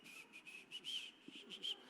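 A preacher whistles a string of short, bright chirping notes in quick uneven bursts, imitating disciples whistling, close and fairly soft.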